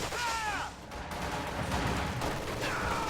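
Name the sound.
MG42 machine gun fire in video game Company of Heroes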